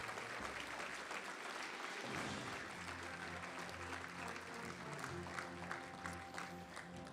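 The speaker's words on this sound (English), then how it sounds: "another big round of applause for Chief Summers" Sustained audience applause at an awards ceremony honoring firefighters and first responders, a dense steady wash of clapping filling the room for several seconds after a brief lull at the start.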